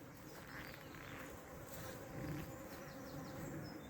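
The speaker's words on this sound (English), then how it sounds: "And are they actually my bees, or are they bees coming from somewhere else? Attracted by my bees?" Honey bees swarming around active hives make a dense, steady buzz, with individual bees droning past nearby against a continuous hum, and no one speaking.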